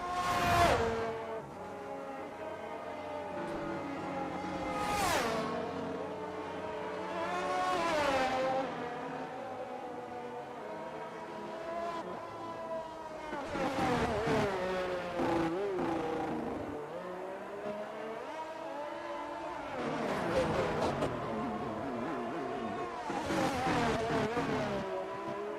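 Racing car engines from a Japanese GP sim racing game roar and rev continuously, with repeated rising and falling pitch sweeps as cars accelerate, shift and pass, loud and sustained throughout.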